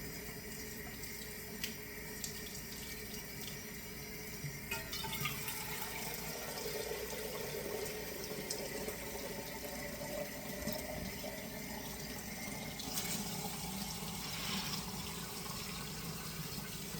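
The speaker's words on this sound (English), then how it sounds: "Wash your jar out and put the same hot water in it. Just from the tap" Hot tap water runs into a glass jar being washed out and refilled, a faint, continuous splashing flow under steady background hiss with no voices.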